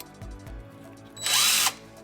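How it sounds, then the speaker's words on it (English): A DeWALT DCK283D2 drill/impact driver from a combo kit, used as a drill, gives a loud high-pitched whine of about half a second after two soft low thumps. "And you can use it as a drill as well."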